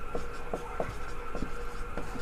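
Chalk or marker strokes from a teacher writing on a classroom board during a physics lesson come as several short scratchy taps and squeaks at irregular intervals, close and fairly quiet over a faint steady background.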